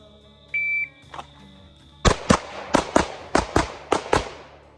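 Pistol shots during a timed shooting drill at an outdoor range: after a short electronic start beep, eight sharp, loud gunshots ring out in quick pairs and clusters, each with a brief echo, with no talking.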